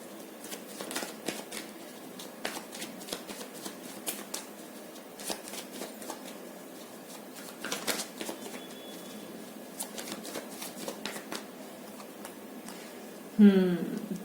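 Tarot cards are shuffled and drawn during a reading in light, irregular bursts of soft riffling and flicks, quiet and close, ending in a brief sharper rustle.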